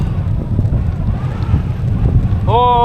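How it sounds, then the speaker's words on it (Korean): A strong headwind roars across a microphone while cycling a long prairie highway in Canada, a steady low buffeting rush that fills the whole stretch, with a voice breaking in briefly at the end. "이렇게 바람 맞으니까. 야, 바람 봐라."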